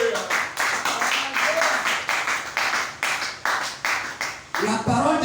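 A church congregation claps and cheers in praise of the Lord, with dense rhythmic applause swelling in repeated waves, loud and close, and raised voices acclaiming over it.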